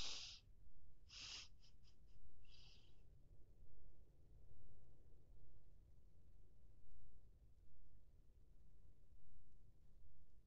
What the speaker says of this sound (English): All I can hear is my guy panting.